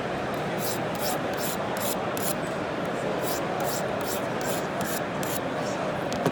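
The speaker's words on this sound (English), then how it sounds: "Into the edge push strokes, light to medium pressure." Knife edge sharpened with push strokes into the edge on a KME sharpener at a trade show booth, a rhythmic series of short rasping strokes over a steady background hum.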